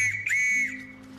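Two short whistle blasts sound as a signal code, a sharp high note followed quickly by a second, close and clear, with a faint low tone underneath.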